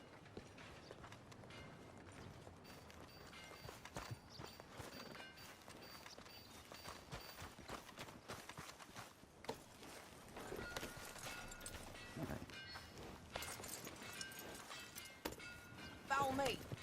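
Horse hooves clop at a walking pace in the video game Red Dead Redemption 2, with creaking tack and faint ambient sounds mixed in, heard quietly under light background noise.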